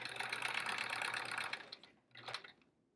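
A sewing machine stitches rows of a quilt with a scant quarter-inch seam: a fast whirring run of needle strokes for about a second and a half, a pause, then a short second burst.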